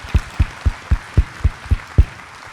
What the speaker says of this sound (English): let's give a round of applause for all the people that work so hard